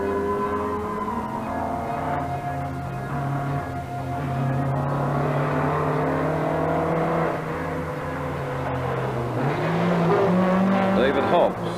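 A rally car in the 1983 Sanyo Rally NZ, driven by Mike Limbrick, roars past on a forest stage. Its engine note climbs and falls through gear changes, loud and close, then fades away.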